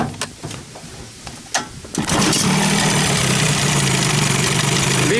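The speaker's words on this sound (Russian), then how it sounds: "Видно, что смесь очень богатая, он даже не может развить обороты." An Evinrude Johnson outboard motor runs on an overly rich fuel mixture, a few sputtering bursts giving way to a loud, steady, close-up idle that cannot rise in revs.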